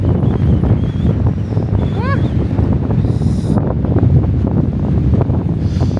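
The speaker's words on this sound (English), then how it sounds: "But in January it's very windy." Strong January wind on the Isle of Skye buffets the microphone in steady, roaring gusts, with a brief high chirp in the middle and no clear talk.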